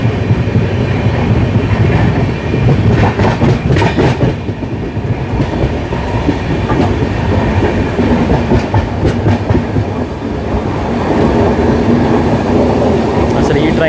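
Ernakulam-Tatanagar Express rolling through Kerala near the Walayar Ghat, a steady, loud rumble of wheels on rails with faint clickety-clack that continues without a break throughout.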